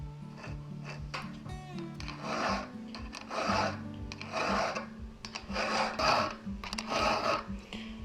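A hand file sharpens a chainsaw chain freehand with a steady run of rasping push strokes, each a short gritty scrape, repeating about once a second, close and moderately quiet.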